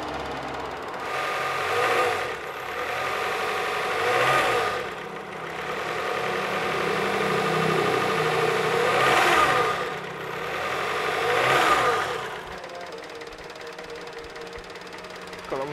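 A 1996 Suzuki Espass pickup engine with points ignition runs near the microphone, idling steadily with several revving swells that rise and fall, and no talking.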